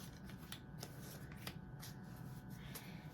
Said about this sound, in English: let me just give this deck a few more shuffles